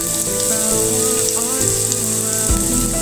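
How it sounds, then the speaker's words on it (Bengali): Chopped garlic and onion fry in a small amount of hot oil, a loud, continuous crackling sizzle with bursts of spitting, close up and without talk. "রসুন পেঁয়াজটা ভালো করে ভেজে নিব।"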